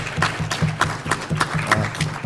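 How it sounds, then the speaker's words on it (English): A meeting audience at Mott Community College claps for a basketball coach's 800th win, a brief round of even clapping at moderate volume. "Let's give him a round of applause for that, please."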